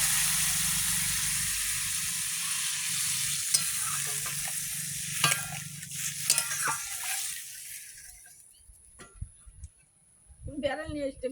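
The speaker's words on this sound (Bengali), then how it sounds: "মশলা বাটিটা ঢেলে একটু জল দিলাম" Ground spice paste with a splash of water sizzles loudly in a pan for a Rupchanda fish curry, stirred with scrapes and knocks, then dies down to quieter clatter before a short voice at the end.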